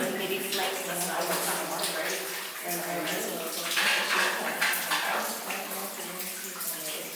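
Water pours and splashes out of a tunnel, draining by gravity, in a continuous rushing flow with people talking over it.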